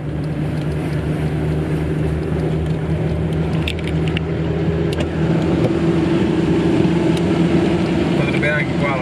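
A Mercedes G200 off-road vehicle's engine gives a steady, even roar with a deep rumbling hum. The level stays constant throughout, with faint higher clicks here and there.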